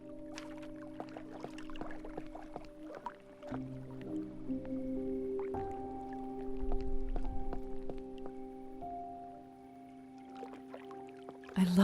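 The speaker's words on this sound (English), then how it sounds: "I love listening to water. Nature makes the best music sometimes." Water dripping in the game Cabernet: soft, scattered drips and wet plinks play over sustained musical tones, fairly quiet and close.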